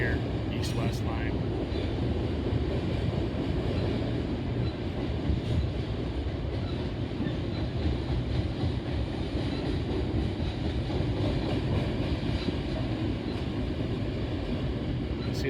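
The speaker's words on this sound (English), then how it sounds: "I don't know the reporting marks on this train symbol here" A freight train with auto racks and coil cars rolls past near Oak Harbor, Ohio, a continuous heavy rumble and clatter of railcars that stays loud and steady throughout.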